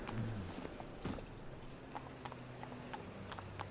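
Roach the horse clip-clops along in The Witcher 3 video game, steady hoofbeats at a walking rhythm, fairly close and quiet, with no talk over them.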